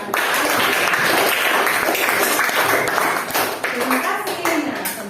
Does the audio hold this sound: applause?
yes